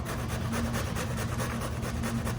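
Cauliflower florets rasped steadily against a hand grater to make cauliflower rice, a continuous close scraping with a fast even rhythm and no talk.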